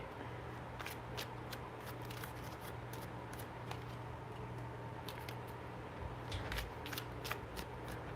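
Tarot cards are shuffled by hand and pulled from the deck, giving repeated crisp riffling bursts and soft snaps over a quiet room hum.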